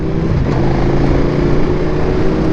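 A KTM 1390 R Evo motorcycle engine drones loudly and steadily close by while accelerating, an even mechanical hum with no voices.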